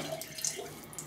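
Water runs from a bathroom tap while a razor is rinsed, a brief soft steady splash close by and fairly quiet.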